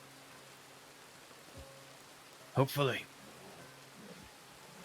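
Steady rain hisses throughout in Red Dead Redemption 2, played on a RedM roleplay server, a soft even wash of falling water beneath a short spoken word.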